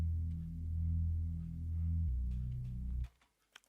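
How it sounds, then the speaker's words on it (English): A GMS synth analog bass preset sounds alone as deep, warm sustained notes, with one smooth pitch change midway, then cuts off into near silence. "The GMS, I use the preset analog bass."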